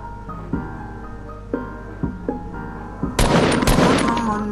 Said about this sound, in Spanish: tiros, tiros, tiros, tiros, tiros.